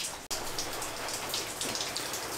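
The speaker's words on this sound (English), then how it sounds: "if you're wondering what that drippy noise is, it's raining right outside that door" Rain falls just outside a door, giving steady dripping and pattering with scattered droplet hits, close and fairly loud throughout.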